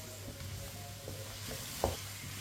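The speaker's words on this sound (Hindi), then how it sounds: "कद्दू को चम्मच चलाते हुए फ्राई करना है।" Bottle gourd (lauki) frying over medium heat with a soft, steady sizzle and light spoon stirs, one sharper clink near the end, fairly quiet and without speech.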